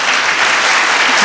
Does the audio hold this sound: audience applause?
yes